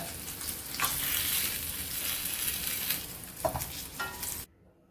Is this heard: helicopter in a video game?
no